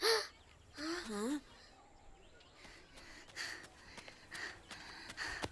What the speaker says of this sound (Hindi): वहाँ चिड़िया सारा खेत खा रही है।